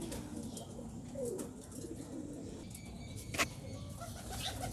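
Soft, low pigeon coos sound faintly nearby amid quiet background rustling, with one sharp click partway through.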